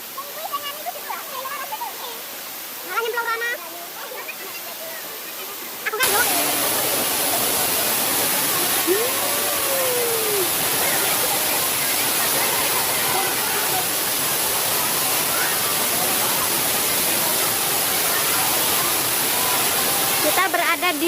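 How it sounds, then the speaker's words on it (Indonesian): A waterfall at Curug Air Terjun roars as a loud, steady rush of falling water that starts abruptly after a few seconds and continues unbroken, with voices faintly heard beforehand and over it. "Kita berada di Curug Air Terjun, guys."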